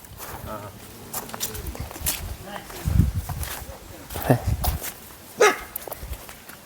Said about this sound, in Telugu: ఇంటి కుక్కలు ఉన్నాయన్న